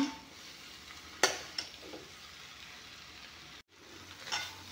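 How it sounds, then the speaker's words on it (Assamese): Quiet steady sizzle of food frying in a pan, punctuated by a couple of sharp utensil clinks and brief stirring scrapes, close by. "এইখিনি অলপমান ভাজি ল'ম"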